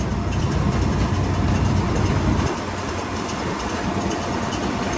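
The engine of a 340 tracked tractor pulling a Claas Quadrant 5300RC big square baler rumbles steadily and loudly, dropping slightly in low-end intensity halfway through but continuing to run throughout.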